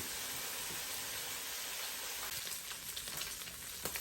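Sausage and cabbage sautéing in a pan, making a constant close hiss and sizzle with light crackles and a few utensil taps toward the end.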